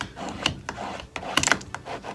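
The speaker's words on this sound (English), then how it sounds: "Burnish this down pretty good." Vinyl decal being burnished onto a mirror, a few short dry rubbing and scraping strokes at close range, separated by brief pauses.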